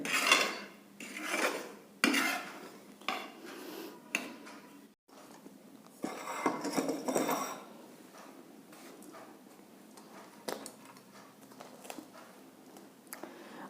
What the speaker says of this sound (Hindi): बस इस तरह इसे चलाते रहिए, नीचे के आटे को ऊपर करते रहिए इस तरह से।